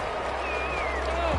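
Stadium crowd noise from the Madden 21 football game, a steady roar of spectators with a rising whistle-like tone above it, constant and loud through the short stretch.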